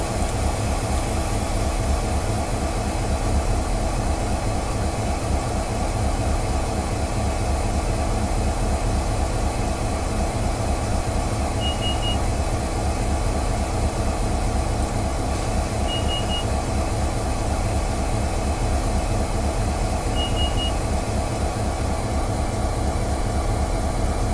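Steady low diesel rumble of a GP40-2 locomotive in a train simulator game, droning evenly throughout with faint repeated high beeps partway through and no talk.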